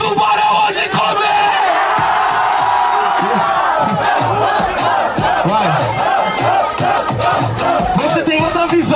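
A crowd at a rap battle cheers and shouts loudly and continuously, a dense roar of many voices with yells rising throughout, close and energetic.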